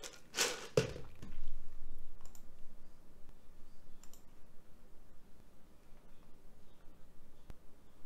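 Computer mouse double-clicked near the start, two quick sharp clicks followed by faint scattered ticks and low room noise, no talk.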